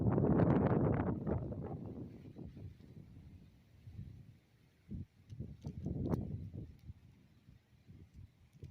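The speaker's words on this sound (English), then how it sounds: "the wind is just picking up like crazy." Heavy wind buffets the microphone in loud low rumbling gusts, strongest at the start, then easing and surging again with brief rustles.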